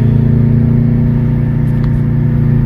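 A 2007 Subaru Impreza with power steering pump trouble holds a loud, sustained engine drone during a second gear pull, with a steady humming tone from near the car and no talking.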